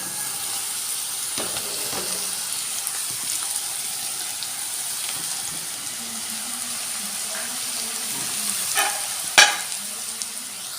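Banana stem and ground coconut paste stirred in a hot pan, a continuous soft sizzle and frying hiss with scraping spoon strokes and a couple of sharper knocks near the end, close and without speech.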